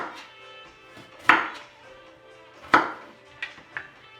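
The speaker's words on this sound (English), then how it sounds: "I'm going to cut the broccoli in a small piece" A knife cutting broccoli into small pieces on a board, with two sharp, resonant chops followed by a couple of lighter taps, close and clear with no talk.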